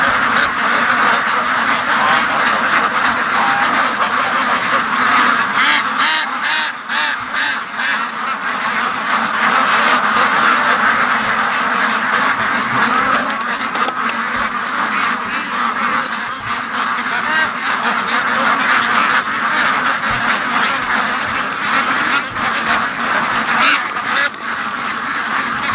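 Free-range ducks and geese make a loud, continuous chorus of overlapping quacks and honks that fill the whole stretch, close by and busy with no pause.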